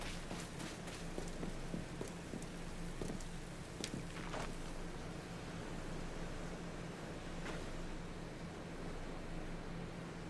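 Steady rain hiss in a Pokémon video game, a broad continuous wash running unbroken for the whole stretch with a few faint clicks scattered through it.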